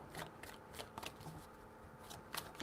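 A deck of tarot cards is shuffled in quiet, soft riffling bursts with brief pauses between them, close to the microphone and with no voice over it.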